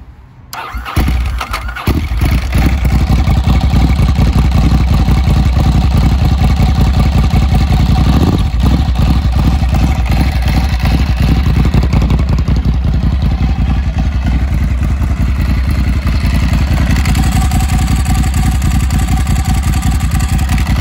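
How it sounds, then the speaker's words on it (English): A 2006 Ducati Sport Classic 1000 Monoposto motorcycle engine starts with a short burst, then settles into a loud, steady close-up running rumble that holds for about twenty seconds with slight variations in pitch. "Let me just give you a sound bite of the bike quickly."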